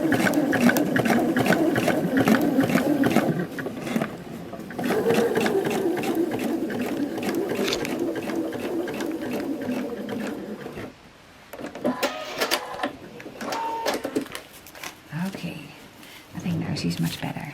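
Domestic sewing machine stitching a curved seam on a star-point quilt block without pins, running in steady rapid bursts with brief pauses, close and loud, while someone talks over it.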